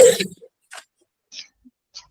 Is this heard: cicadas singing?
no